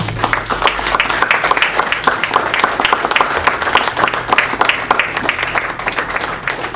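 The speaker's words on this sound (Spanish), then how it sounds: "Ofréndele palmas al Rey de Gloria." Church congregation clapping in praise during a service, loud, close and continuous with many hands keeping a fairly even rhythm throughout.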